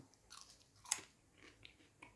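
Crispy fries from a Ninja Foodi air fryer are chewed close to the mouth, giving a few soft irregular crunches with one sharper bite near the middle, faint and without speech.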